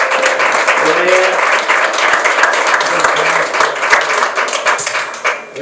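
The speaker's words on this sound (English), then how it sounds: "Give the Lord a hand" Congregation applause and hand clapping at a Sunday night church service, a dense loud burst of many hands clapping that fades toward the end, with voices mixed in.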